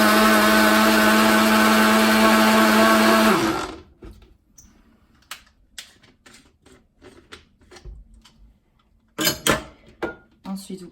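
A countertop blender whirs loud and steady for about three and a half seconds while mixing a vegan poke sauce, then cuts off and spins down. Light clinks and handling noises follow in a quieter kitchen.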